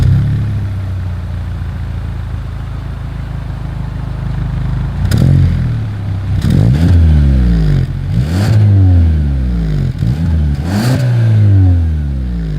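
Exhaust of a 2023 Hyundai Sonata, idling with a low rumble, then revved four times in quick succession, each rev rising and falling sharply, loud and close.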